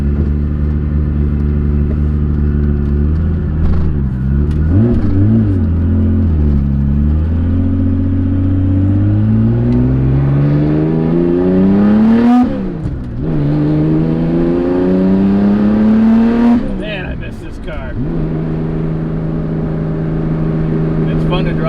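A loud Porsche 911 engine, not yet warmed up, revs repeatedly up and down, rising and falling in pitch, close by and sustained.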